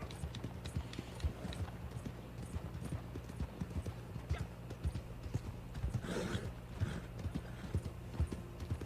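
A horse in the Red Dead Online video game gallops with quick, even hoofbeats at moderate volume, with a brief whinny-like swell partway through.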